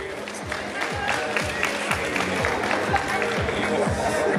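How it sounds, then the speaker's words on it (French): A crowd applauds the captain of a girls' cadet rugby team at an official jersey presentation, moderate clapping and crowd noise over a steady, regular thumping beat. "On peut l'applaudir bien fort."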